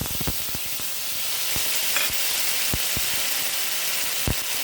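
Onions sizzle and fry in a pan for a prawn curry, a steady close crackle with scattered sharp pops and no voices.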